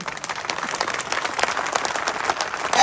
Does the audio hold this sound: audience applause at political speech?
yes